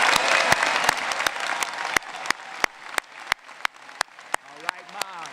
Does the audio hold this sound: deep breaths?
no